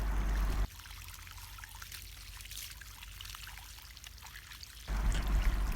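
Water flushes out of farm sprinkler pipes during system setup, a steady low rushing pour that holds for about four seconds between louder bursts at the start and end, with no talking.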